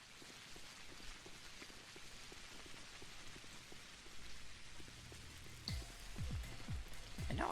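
Steady rain falls and patters in Pathologic Classic HD, a constant hiss of drops on surfaces, joined near the end by a few sharp swooping tones.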